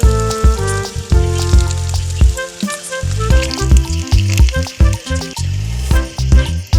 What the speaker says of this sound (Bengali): এবার তেলে ভেজে নেওয়া হচ্ছে পিঠে।